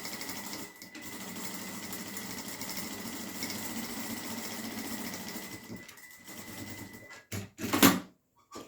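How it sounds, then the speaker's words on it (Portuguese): A sewing machine runs steadily at close range for about six seconds, stitching a decorative seam along the top of a bag pocket, then stops and gives a few short bursts and clicks. "aqui na parte de cima do bolso, eu vou fazer uma costurinha decorativa mesmo, tamanho de um pé de máquina"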